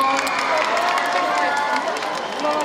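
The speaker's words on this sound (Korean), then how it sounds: "큰 박수 부탁드릴게요." A crowd at a public radio broadcast applauds and cheers, loud and continuous, with voices and a musical tone mixed into the roar throughout.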